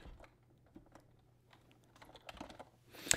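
Typing on a computer keyboard: soft, close key taps in an irregular patter, sparse at first and then quicker, with a sharper click at the end, in a quiet room.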